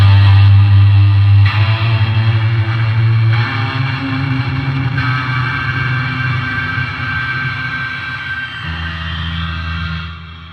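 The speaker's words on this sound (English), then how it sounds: "So this is a fuzz into a reverb." An electric guitar runs through a fuzz pedal into reverb on a Line 6 HX Stomp, loud sustained distorted chords with changes every couple of seconds, the last one ringing out and fading into a reverb tail.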